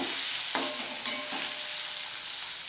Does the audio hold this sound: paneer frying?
yes